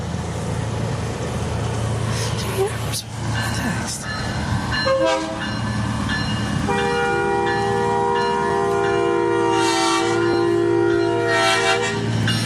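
A big teal truck in a river festival parade rumbles past close by, its loud engine roaring steadily while a long horn blast sounds, with a voice talking briefly over the noise.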